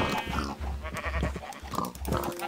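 Low, rough grunting and snorting from pigs in Minecraft, repeating in short bursts over a steady background, with no talking.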